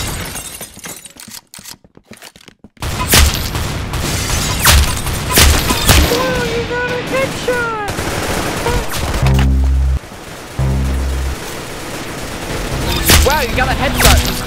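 Rapid gunfire bursts and booms from a shooter video game, ending in a headshot, with crackling shots, a brief lull and scattered game tones, loud and dense throughout.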